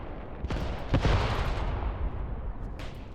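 Muffled explosions from grenades going off in the war game Graviteam Tactics, a couple of heavy thumps amid a dense rumbling wash of battle noise, with no talking.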